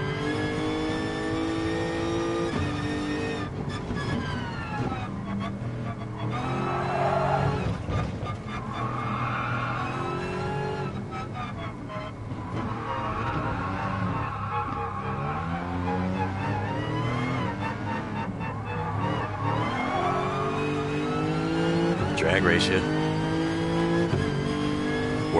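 In the Gran Turismo Sport video game, a race car's engine revs continuously with a tight transmission whine, rising and falling through gear changes, loud and close throughout.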